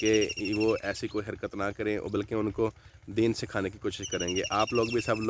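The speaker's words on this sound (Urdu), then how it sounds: "تو یہ آپ لوگ سن رہے ہوں گے جی پرندوں کی آوازیں" Birds chirp in a sugarcane field, their faint high calls sitting under someone talking steadily throughout.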